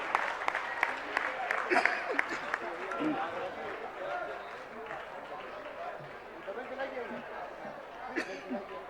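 Applause for the first-prize winner at a Jain college prize distribution ceremony in Agra, a fairly quiet, uneven patter of clapping mixed with crowd chatter and voices throughout.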